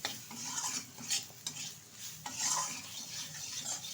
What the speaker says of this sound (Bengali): ভালোভাবে মশলাটা কষিয়ে নিচ্ছি।